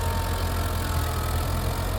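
A New Holland 6610S tractor engine drones steadily while plowing a sandy field, a continuous low, even rumble with no break and no voices.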